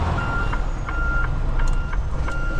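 A heavy truck engine drones low and steady while descending a 6% mountain grade on Black Mountain Pass, with a faint regular beeping at intervals above the rumble.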